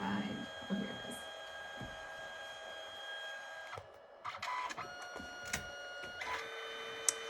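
A Canon Selphy photo printer feeds and pulls back paper while printing, a steady mechanical whir with brief clicks and motor shifts, close up under occasional quiet talk.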